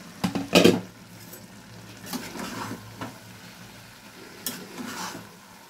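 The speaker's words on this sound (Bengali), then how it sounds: "এটা চিকেনটা একটু নেড়ে দিই।" Chicken being stirred in a frying pan, a few sharp scraping clatters near the start followed by softer stirring strokes over a low, steady sizzle.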